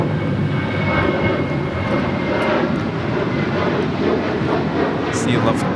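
A Lufthansa airliner on approach at LAX from Frankfurt, a loud continuous engine roar and rushing drone that holds steady throughout, with a voice talking over it.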